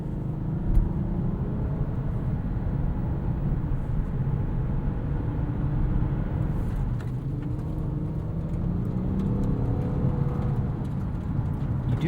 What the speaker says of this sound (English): You do get a good amount of power from this V6, and it sounds pretty good in normal mode